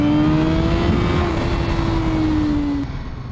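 Honda CBR1000RR-R Fireblade SP motorcycle pulling hard at around 70 km/h, a loud steady engine drone with a rising then levelling tone for about three seconds before easing off.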